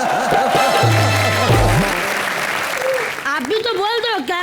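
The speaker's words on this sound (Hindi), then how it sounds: "जोरदार तालियां" Loud studio applause on a TV comedy show stage, a dense steady wash of clapping with voices and music rising over it toward the end.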